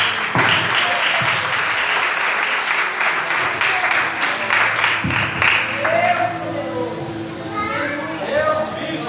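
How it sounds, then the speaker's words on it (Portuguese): A church congregation claps loudly in praise during a worship service, with dense applause filling the first half and then thinning, while children's voices and chatter rise over the fading claps. "com as palmas para o Senhor Jesus"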